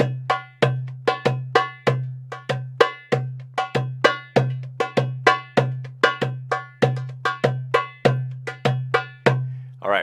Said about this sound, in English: I'm using a drum called a darbuka